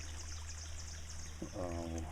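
Water pours over a weir outdoors in a steady, close rushing stream, joined by a brief gurgling splash near the end.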